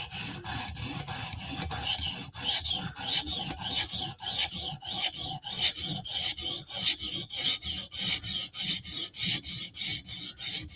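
Spyderco Slysz Bowie knife edge being sharpened on a stone toward a mirror finish: rhythmic rasping strokes, about two per second, close and steady with no talk.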